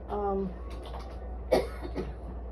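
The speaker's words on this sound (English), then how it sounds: "don't be coughing in here" A single short cough rings out near the middle, surrounded by quiet talk in a small room.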